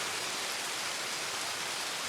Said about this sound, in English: This rain is so dog shit.